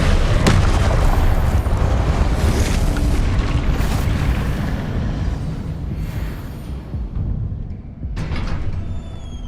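Confringo fire-blast spell explosions in Hogwarts Legacy, with a loud opening burst followed by rumbling booms that thin out, then another sharp blast near the end.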